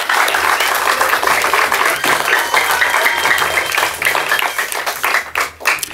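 At a school debate, a crowd applauds both teams with loud, sustained clapping that fills the room evenly before tapering slightly near the end.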